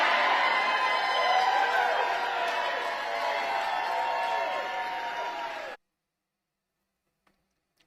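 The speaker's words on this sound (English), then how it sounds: "Listen to the yells and screams that his mom is getting right now." A large crowd at a political event yells, screams and cheers in a dense, loud roar for several seconds, then it cuts off abruptly into near silence.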